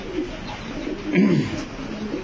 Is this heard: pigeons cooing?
yes